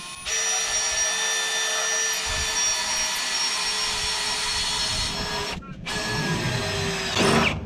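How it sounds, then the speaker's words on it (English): A power drill whines steadily and loudly up close, grinding through metal while fitting Ironman scrub bars to an Isuzu D-Max, for several seconds with a brief pause near the end. "then just drill, and hopefully that you've got a good eye"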